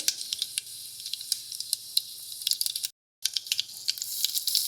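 Mustard seeds and urad dal in hot oil in a kadai, crackling and popping in rapid bursts over a soft sizzle, with a short gap of silence.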